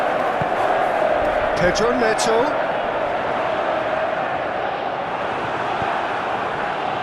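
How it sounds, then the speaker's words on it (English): Football crowd noise in the video game PES26 rolls as a broad, steady roar of stadium cheering, with a commentator's voice briefly over it. "Well, the crowd clearly like what they just saw."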